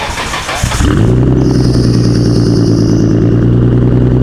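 A Nissan Skyline GT-R R32 cold-starts after a brief cranking whir, catching with a loud bark and settling into a high, steady, rumbling fast idle that stays close and unbroken, with no talk over it.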